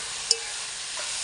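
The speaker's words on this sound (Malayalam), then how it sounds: "നല്ല വൃത്തിയായിട്ട് ഇളക്കി" Chicken curry being stirred and sautéed in a pan: one brief clink of the spoon against the pan, then a steady soft sizzle and scrape.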